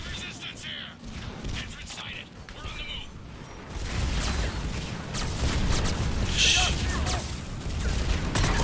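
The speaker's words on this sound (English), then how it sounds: "who the fuck is firing this artillery?" Heavy artillery fire in a Mass Effect 3 battle against Cerberus, a dense, rolling barrage of booms and gunfire that swells louder partway through and keeps pounding without pause.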